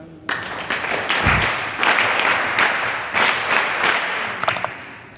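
A crowd claps steadily for several seconds at a Sanskrit school event, a dense rattling applause that stays loud and even throughout.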